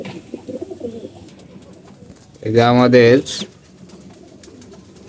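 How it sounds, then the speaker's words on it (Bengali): Pigeons in a breeding loft give a short burst of loud cooing partway through, set against low background murmur and a brief spoken phrase. "ভিতরে কবুতর দেখো"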